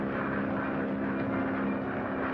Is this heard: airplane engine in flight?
yes